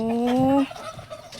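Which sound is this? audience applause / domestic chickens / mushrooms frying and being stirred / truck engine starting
domestic chickens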